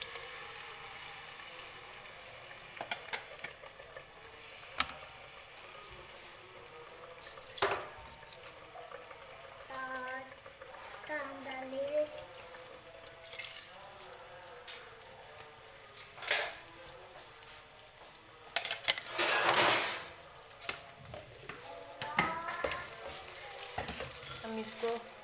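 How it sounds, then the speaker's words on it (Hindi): Ground onion paste fries in a pan for kofta gravy, a soft low sizzle with intermittent scraping and stirring knocks and occasional brief voices in the background. "अब हम इसमें जो मैंने प्याज को ग्राइंड किया हुआ है वो डालेंगे।"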